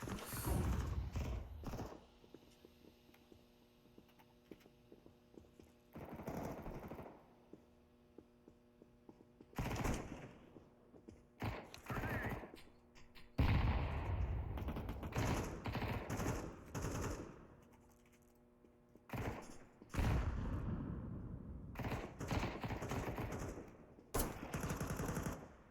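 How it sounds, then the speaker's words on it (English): Video game gunfire, repeated loud bursts of rapid automatic shots and single blasts coming in irregular clusters over a low mechanical hum, with brief quiet gaps between them. "Did I start shooting too early?"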